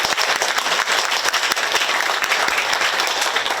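An audience at a Korean community meeting in San Francisco bursts into sustained applause, loud and steady clapping from many hands throughout.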